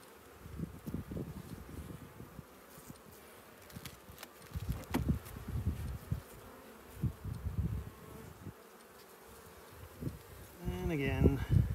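A hive of honeybees buzzing steadily during a frame inspection for swarm cells, a close, continuous drone with soft rustles and knocks of frames being handled, and brief muffled voice sounds.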